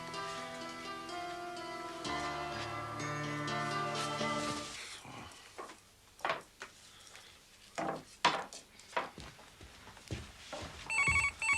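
An old-style telephone bell rings loudly in repeated bursts, with clinks of dishes and wooden knocks nearby.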